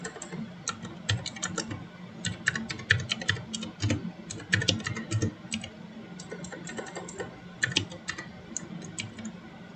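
Fast, irregular clicking of keys as HTML code is typed on a computer keyboard, crisp close taps in quick bursts with short pauses, no talking.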